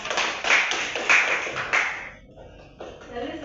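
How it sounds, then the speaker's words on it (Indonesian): Students in a classroom clap together for about two seconds in a brisk, fairly close round of applause that then fades, leaving quiet room noise with faint voices. "Beri aplaus pada Nasifah."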